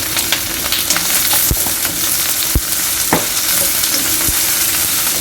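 Okra sizzles steadily in a hot pan with chili powder and spices, a dense broadband hiss broken by a few sharp clacks and scrapes as the mixture is stirred, close and loud with no voices.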